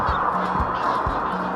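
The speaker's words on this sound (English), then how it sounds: "I think they're made by geese." Geese honk several times over a steady roar of passing traffic on a busy road in Central Queensland, the calls short and nasal, spaced irregularly and partly buried in the noise.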